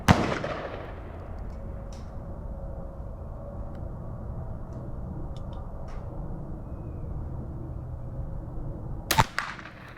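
Marlin 39A rifle firing outdoors, a sharp loud crack at the start with a decaying echo, then a quiet stretch and a second sharp shot near the end.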